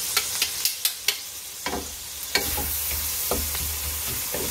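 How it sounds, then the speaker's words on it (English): Silk squash soup stirred in a pot with a spoon: several sharp scrapes and clinks of the utensil against the pot, then a steady low bubbling simmer, nearby and moderately quiet, with no talking. "we are gonna stir this one around just a little bit"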